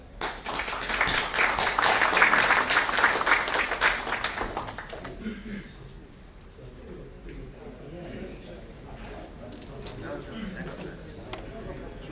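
A conference audience applauds the speaker at a South Asia jobs-for-development event: dense, loud clapping for about five seconds, then it dies away to scattered claps under a speaking voice.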